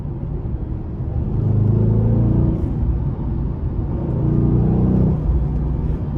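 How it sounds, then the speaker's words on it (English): A 2009 Dodge Challenger SRT-8's 6.1-liter V8 rumbles deeply, rising in two swells as it is revved, then settling back to a low idle; loud and close. "I'm gonna rev the engine a little bit."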